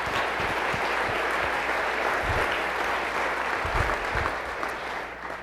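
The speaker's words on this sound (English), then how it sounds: "Let's give Dixie State a round of applause." A civic event audience applauds, a steady dense clapping from a large crowd filling the room for several seconds before easing off slightly at the end.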